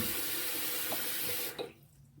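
Tap water rushes steadily while a wig is rinsed with conditioner in a basin, then cuts off abruptly near the end, leaving quiet.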